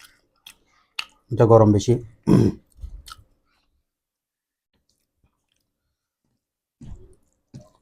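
Someone chews haicha greens mixed with fiery naga chili and a little oil, making soft, wet mouth sounds up close. A short spoken remark comes first, and a few quiet chewing smacks follow after a pause.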